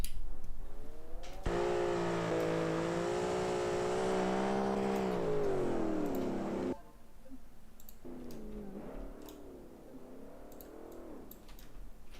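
Race car engine in the Automation racing game, a loud harmonic drone that holds steady for several seconds and then drops back to a quieter, wavering engine tone with faint clicks.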